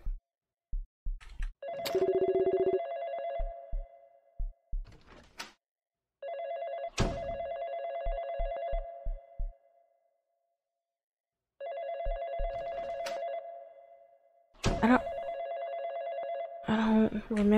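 Old-style telephone bell ringing in the Ridgewood Road horror video game, loud repeated bursts with silent gaps between them, along with clicks and a brief other tone near the end.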